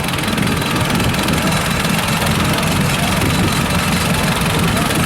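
An antique prairie tractor engine runs steadily at an antique power show parade, a loud, continuous low chugging rumble with constant broadband noise throughout and no clear pauses.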